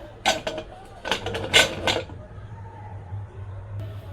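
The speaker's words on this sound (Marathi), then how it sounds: "चला आता कुकरला झाकण लावून घेऊया." A pressure cooker lid being fitted on in a home kitchen after spices, peas and water go in: several close metallic clanks and scrapes in short bursts over the first two seconds, then quiet with a low hum.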